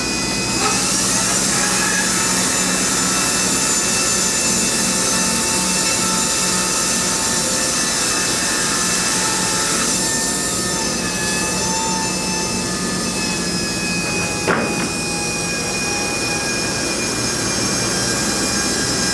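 A sawmill cuts a big log into boards with a loud, steady mechanical drone that holds throughout, broken only by a brief knock near the end.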